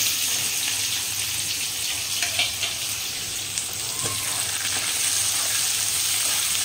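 Onions sizzle steadily in hot oil tempered with bay leaves and whole garam masala, a continuous loud frying hiss with faint stirring clatter and no voices.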